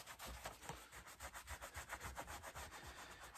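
Cloth soaked in acetone rubbed back and forth over leather riding boots, a quiet, close, rhythmic scrubbing with even strokes about four per second and no voices.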